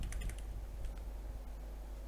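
Brief bursts of computer keyboard typing while entering a Python program, a few quick close clicks at the start and then faint taps over a low constant hum.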